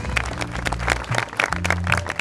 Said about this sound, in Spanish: fuertes los aplausos para nuestro alcalde Mardoqueo Cancarzacach.